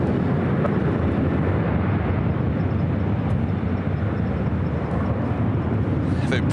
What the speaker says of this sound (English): Airbus 350, wind 2407, runway 24 right for the land.